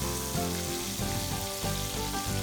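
Puree of ground onion and tomato fries in a pan with a steady, dense sizzle and occasional soft stirring scrapes, close and continuous with no talking.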